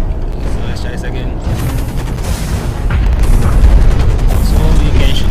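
Missiles burst in the mech shooter game Hawken, with a dense run of loud booms and crackling blasts that swell heavier toward the end, over which a player talks.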